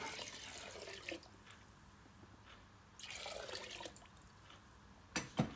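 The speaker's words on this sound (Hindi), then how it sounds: "अब इसमें पानी शामिल करेंगे तकरीबन 8 कप।" Water poured into a cooking pot holding stock, frozen vegetables, potatoes and soaked rice, heard as two splashing bursts of pouring separated by quieter stretches, ending with a couple of sharper splashes, close and with no talk.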